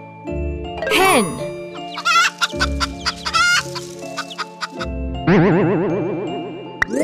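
A hen clucks in short bursts between brief spoken words, with a light jingling tone underneath and a rising warbling call near the end.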